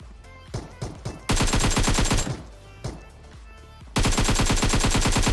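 Rapid gunfire bursts in the mobile battle-royale game PUBG Mobile: scattered single shots early, then two long, loud sustained automatic volleys with a steady fast rhythm.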